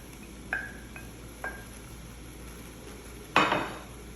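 Sliced onion being mixed with liver in a pan, with a few sharp, scattered clinks and scrapes of a utensil against the pan and one louder scraping stir near the end over a quiet background.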